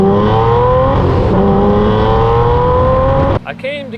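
A Lamborghini Murcielago V12 revs hard up close, its loud engine note climbing steadily in pitch for about three seconds before cutting off abruptly into quieter wind and road noise.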